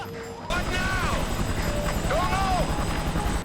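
A video-game helicopter drones steadily with a rotor chop and engine whine, loud and continuous after a brief quieter start, with soft tonal game effects sweeping over it.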